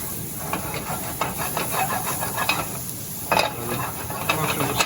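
Mushrooms cooking gently in a pan for chicken chasseur give a steady hiss and soft sizzle, with a few brief scraping stirs and a louder burst near the end.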